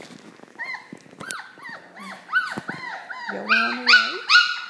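A litter of puppies in a pen yaps, whimpers and howls in a busy overlapping chorus of high-pitched cries, close and loud, growing more insistent toward the end, with a person speaking briefly over them.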